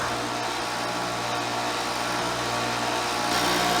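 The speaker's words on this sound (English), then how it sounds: "that grinder's got a draw" Electric grinder drawing about 730 watts from a BLUETTI AC200MAX power station, a steady close motor whine and broadband grinding roar that holds continuously, rising slightly in brightness near the end.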